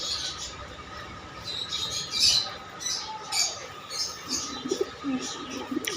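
A pigeon flaps and squawks while scuffling with a person's hand, harsh calls and short chirps rising and falling over steady background noise, close and fairly loud throughout.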